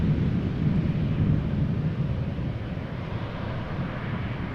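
An Embraer jet arriving at Amsterdam Schiphol gives a low, rumbling engine roar, thundery and constant, fading slightly over a few seconds.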